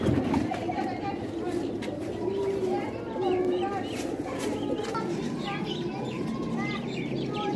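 Ferozpuri and Sialkot pigeons coo repeatedly in soft, rolling calls close by, layered over a busy background of other chirps and someone talking.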